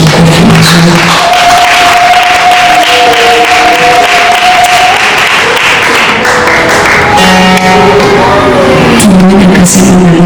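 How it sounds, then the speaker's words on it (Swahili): A church congregation at a preaching seminar clapping loudly for Jesus, a sustained roar of hands with sustained musical tones running under it. "Nisaidie tena kumpigia Yesu makofi mazuri."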